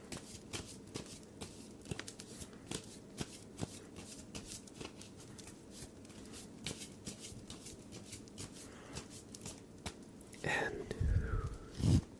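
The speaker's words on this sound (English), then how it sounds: "we're going to get the tarot cards out" Tarot cards are shuffled up close in a quiet ASMR setting: a steady run of soft, crisp card taps and riffles, then a louder, fuller burst of handling near the end.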